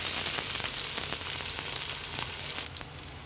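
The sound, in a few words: onions and garlic sautéing in a pan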